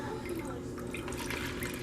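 Homemade liquid bubble bath soap poured into an old reused container, a steady wet trickle and dripping at close range with no talk over it.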